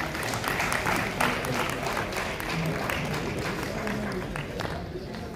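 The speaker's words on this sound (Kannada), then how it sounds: "ಎಲ್ಲ ಲಯನ್ ಬಾಂಧವರು ಚಪ್ಪಾಳೆಯ ಮೂಲಕ ಶುಭ ಹಾರೈಸಿದರು" An audience applauds at a Lions District 317A cabinet presentation, steady, moderately loud clapping from a crowd. A voice speaks over it.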